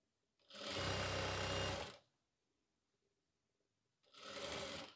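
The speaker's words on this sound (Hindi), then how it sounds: "अब जैसे मैं सिलाई लगा रहा हूँ ना आप देखते जाएँ" A sewing machine stitches a border on a kameez, one steady whirring run of about a second and a half, a pause, then a second shorter run, close and loud.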